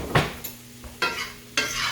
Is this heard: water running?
no